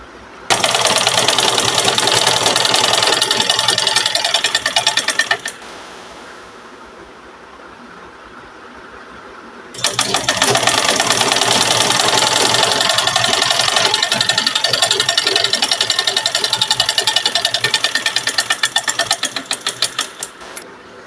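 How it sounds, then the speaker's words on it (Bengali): A sewing machine runs in two long, loud bursts while stitching a half-inch folded fabric border all the way around; its rapid mechanical whir stops for a few seconds of quiet in between. "আমি 1/2 ইঞ্চি ভাঁজ করে বর্ডারটা প্রথমে সেলাই করে নিচ্ছি, পুরোটা রাউন্ড করে"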